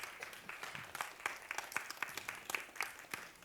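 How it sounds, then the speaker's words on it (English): An audience at a live author event applauds, many hands clapping in a brisk, continuous patter with distinct individual claps popping through, heard at a moderate distance with no talking. "So, round of applause for Heather, please, for that."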